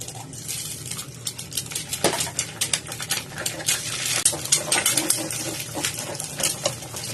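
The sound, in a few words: stir-frying an egg in a wok with oil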